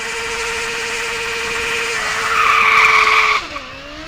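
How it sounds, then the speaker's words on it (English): A Formula Student race car accelerates hard with heavy wheel spin at a competition event. The engine whines and rises in pitch with loud tire squeal, then shifts gear near the end. No one speaks. "And a lot of wheel spin there, Christian."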